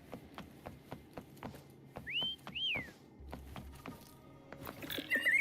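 A person whistles two rising, falling notes to call a horse in a video game, over soft game ambience with faint hoofbeats, a short clip-clop rhythm and a brief high tone at the end.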